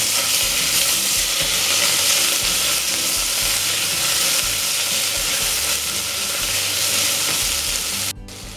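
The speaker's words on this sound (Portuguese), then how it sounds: "Faz 8 minutos que está fritando aqui os cubinhos de carne." Small beef cubes frying in a pan, a steady loud sizzle and spatter that runs unbroken for several seconds, with a brief clatter near the end.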